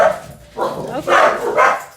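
Dog barking at a front window indoors, a few loud close barks and yips in quick succession with short gaps, whimpery tone between.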